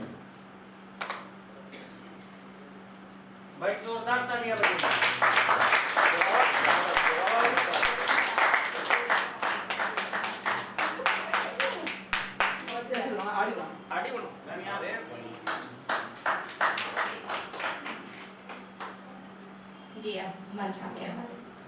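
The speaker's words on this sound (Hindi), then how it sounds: "भाई जोरदार तालियां बजाइए।" Loud audience applause at a Hindi poetry festival in Palam, Delhi, swelling after a brief pause and holding steady for several seconds, then thinning into scattered claps; a voice speaks over the clapping near the end.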